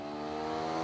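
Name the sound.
TVS RTX 300 motorcycle engine revving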